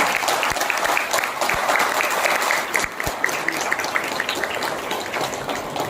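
Steady audience applause at a pulse-testing medical camp fills the room, a dense continuous patter of many hands clapping together, fairly loud and sustained throughout with no voices over it.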